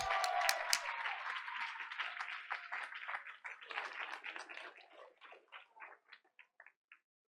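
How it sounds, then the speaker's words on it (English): Faint applause from a school board meeting audience honoring a student award winner starts as a soft continuous patter, then thins out into scattered individual claps before fading to silence. "please give a big round of applause to our Outstanding Student Award recipient"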